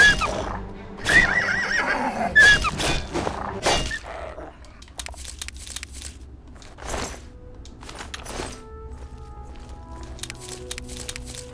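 In Elder Scrolls IV: Oblivion, a horse neighs loudly several times in the first few seconds, followed by quieter game sounds with faint tones and occasional thumps.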